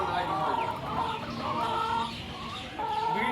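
A laying hen clucking close by in a steady, continuous run, with voices faintly mixed in.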